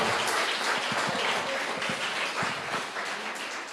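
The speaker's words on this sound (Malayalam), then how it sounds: "വെരി ഗുഡ്, നല്ലൊരു ക്ലാപ്പ് കൊടുക്കാം." A crowd at a motivational talk claps steadily for several seconds, a full, even wash of applause. Some louder individual claps stand out close by.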